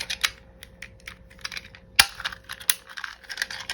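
Rapid irregular clicking and ticking of an adhesive tape roller, close and crisp, with a few sharper snaps standing out.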